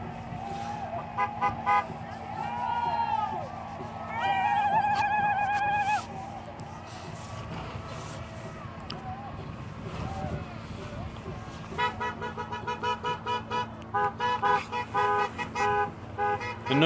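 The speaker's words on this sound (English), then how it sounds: "The noise you hear is people going back in cars for medical and trying to clear the road to get" Cars honk repeatedly along a crowded road during the Standing Rock protest in November 2016, long and short horn blasts mixing with engine noise, voices and general commotion, loudest in bursts toward the end.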